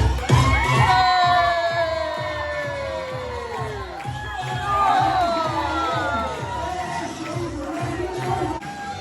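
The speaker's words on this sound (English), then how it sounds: "The crowd were going wild." A crowd at a live wrestling show cheers wildly, with loud sustained shouting, whoops and high-pitched children's screams filling the space throughout.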